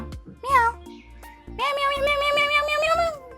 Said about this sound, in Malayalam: യെസ് പൂച്ച